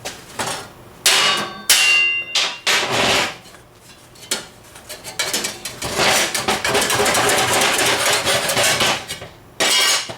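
A hammer strikes stainless steel during metal fabrication near welded joints, loud sharp metallic clanks in irregular bursts, then a fast rapid run of blows, with ringing between hits.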